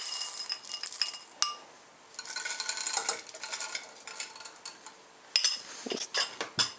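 A spoonful of popcorn kernels tipped into a small pot, giving close, bright metallic clinks and a light rattling scatter against the metal, with scraping and tapping in short bursts.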